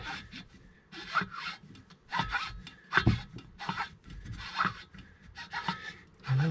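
Close, irregular metallic scraping strokes, a series of rasping rubs with short pauses between them, as tight piston rings scrape in the cylinder of a Holzfforma G372XP chainsaw engine.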